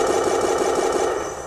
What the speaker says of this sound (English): Good machine gun sound in this for the 50 cal.